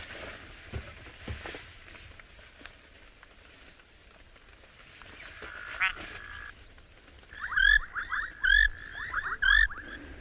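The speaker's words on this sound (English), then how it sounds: "So what we heard there was the plain grass frog, I'm pretty sure." Plain grass frogs call at sunset on a wildlife safari, faint and scattered at first, then a run of loud, quick chirping croaks repeating in short bursts toward the end.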